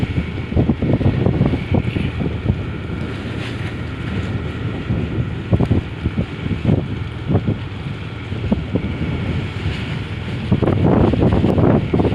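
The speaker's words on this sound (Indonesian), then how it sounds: "Sandar kapal kargo" A cargo ship berths at the Lamongan shore base, with a low droning engine rumble and irregular thumps under heavy wind buffeting on the microphone, steady throughout and swelling louder near the end.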